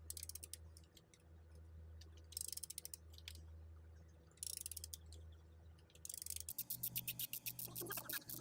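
Ratchet fitted with a 5/8 socket loosening a spark plug on a 2007 Acura RDX, heard as quiet bursts of fast clicking separated by pauses, ending in a longer run of evenly spaced clicks.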